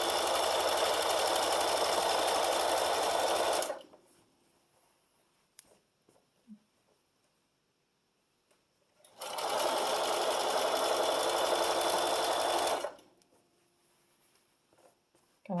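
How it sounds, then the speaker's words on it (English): A sewing machine stitches binding down along a quilt edge at a quarter-inch seam, running in two long steady bursts of rapid whirring with a quiet pause of small handling noises between them. "You're just going to let your machine do the work for you, sewing 1/4 of an inch seam allowance."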